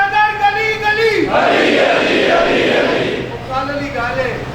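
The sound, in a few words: crowd chanting slogans at a Muharram majlis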